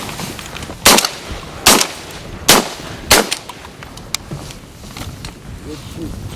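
Shotgun blasts during a duck hunt: four sharp, loud reports spaced under a second apart, then a fainter pop, with outdoor background noise and no talk over the shots.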